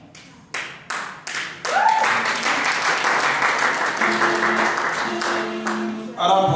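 A few isolated claps at first swell into sustained applause from an audience, with a tone sounding partway through and a rise in volume near the end.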